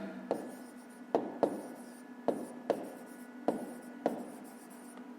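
Pen strokes on paper while a fifth-grade math solution is written out by hand, a steady series of close scratching strokes with short pauses between each burst, no one speaking.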